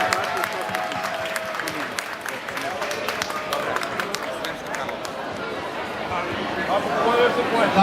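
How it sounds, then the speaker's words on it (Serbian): Audience applause at a cheese festival in a hall, a steady dense clapping of a crowd with murmuring voices mixed in, sustained for several seconds and swelling slightly toward the end. "Molim vas aplauz."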